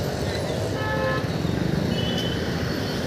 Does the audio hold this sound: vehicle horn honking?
yes